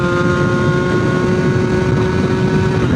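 A tuned 70cc scooter engine in a Top Noir setup holds at minimum throttle, a steady close buzzing drone with a clear humming tone that stays even and loud throughout.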